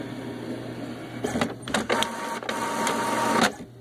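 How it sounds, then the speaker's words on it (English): An HP ENVY 4501 inkjet printer whirs and clicks through a copy, mechanical feeds and a rising motor hum, close by with no talking. "copies are actually pretty quick as you can see it's very fast copying"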